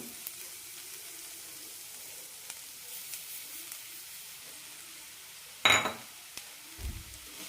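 Masala is fried and stirred in a pan for ragi aval upma. A faint, continuous sizzle runs under one loud clatter of a utensil against the pan and a few quieter scrapes afterward.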